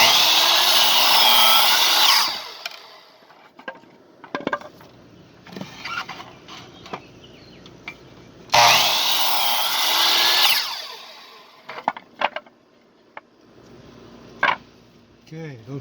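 Two loud bursts of a ProTech power tool, a DeWalt look-alike, cutting wood, each running about two seconds, separated by quieter clunks, knocks and handling noises of the job in between.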